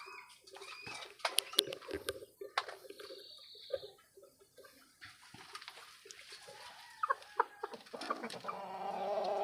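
A hen nesting on eggs gives soft, intermittent clucks and low murmurs, faint and close, with scattered small rustles and knocks between the calls.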